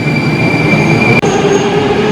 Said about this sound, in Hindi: अरे भाई मेट्रो चली गई